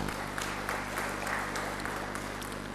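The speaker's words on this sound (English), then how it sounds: "I think we should give him a big round of applause for his efforts." Applause from the audience at a global economic summit rolls through a hall as a steady, moderately loud patter of many hands, with a constant low electrical hum running underneath.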